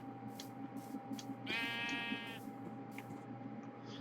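Sheep bleat in a blocky Minecraft-style survival game, one clear drawn-out bleat standing out over steady game ambience and background music.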